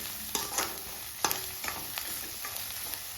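Soft, steady sizzle of chicken liver frying in a pan with tomato, turmeric powder and salt, broken by scattered clinks and scrapes of a spoon stirring, quiet and close.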